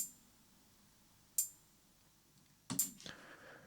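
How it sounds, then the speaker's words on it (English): Two short synthesized closed hi-hat ticks from a Wonky Stuff module in an AE Modular patch, crisp and bright, sounding alone against a quiet hiss: a single hit, then a pair of quick hits near the end. "The close hat sounds like this."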